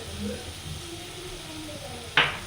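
Chilli, coriander, turmeric and pepper powders roast with sliced onions in a pan for a prawn roast, a soft steady sizzle with a sharp scraping stir near the end.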